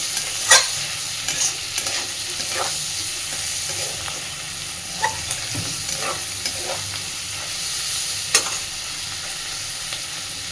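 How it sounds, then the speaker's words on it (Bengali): Onion stalks, potato and fish oil fry in a pan, giving a constant bright sizzle with intermittent scraping stirs and small pops, close and fairly loud throughout. "পেঁয়াজ কালি আলু মাছের তেল সব কিন্তু বেশ অনেকটাই ভাজা হয়ে এসেছে"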